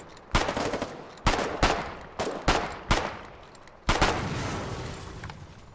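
Gunfire in the war game Foxhole, six or seven loud, close shots with booming tails, spaced unevenly over a few seconds, with no talking over them.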